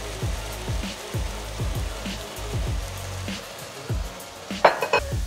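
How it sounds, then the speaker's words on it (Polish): Steady crackling sizzle of mushrooms frying in a hot pan, with a brief louder burst of spatter near the end. "Pieczarki i inne składniki tam już się elegancko smażą."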